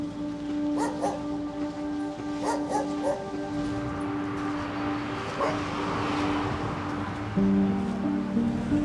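Dogs bark in short scattered yips and woofs over a steady hum and distant traffic in a frontline village under attack, with a louder tonal drone near the end.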